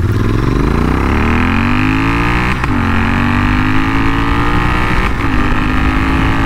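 A Royal Enfield Continental GT650 motorcycle engine pulls while riding, its steady drone climbing in pitch with two brief dips as the rider shifts gears, loud and continuous with wind rush and no talk.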